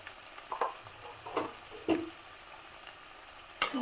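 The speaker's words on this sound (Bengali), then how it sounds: "মশলাটাকে একটু কষিয়ে নেব।" Ground spice paste with turmeric fries in a pan, with a quiet sizzle broken by a few sharp ticks and scrapes of stirring at irregular intervals, close up and with no voices.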